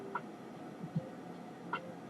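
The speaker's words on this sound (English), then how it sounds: "all these geese out here" Geese calling outdoors, two short honking calls a couple of seconds apart, moderately distant against a steady background of outdoor noise, with a lower grunt-like call between them.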